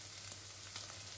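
Onion sautéing in a pan for feijão tropeiro, a soft steady sizzle and crackle of frying with faint low hum underneath, quiet and continuous throughout.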